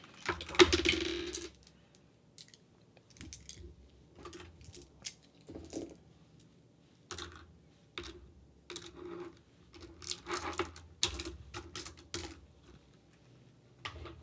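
Dice clatter and tumble in several short bursts of hard rattling clicks, separated by quiet pauses, close and fairly faint.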